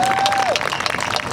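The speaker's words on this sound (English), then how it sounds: "And that does deserve a round of applause." A brief burst of crowd applause at an education rally in Anchorage, steady clapping with a faint tone at the start and some background murmur.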